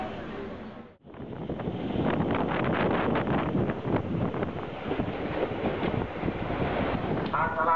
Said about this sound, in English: This is going to be a 3rd-class train.